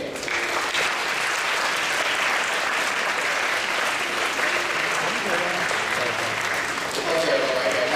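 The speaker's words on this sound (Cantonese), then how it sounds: "請同學以熱烈嘅掌聲歡迎。" Students applaud as guests enter the hall for a school Taoist education talk, steady, full clapping from a large audience for the whole stretch, with a little speech under it.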